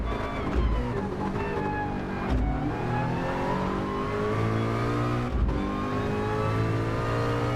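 Race car engines in Gran Turismo 7, a Ford against Ferrari endurance race, rev and accelerate loudly and up close, with rising engine whines, gear changes and a couple of sharp shifts.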